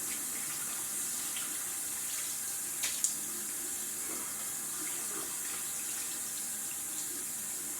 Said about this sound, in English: A little cold water time, splash the face.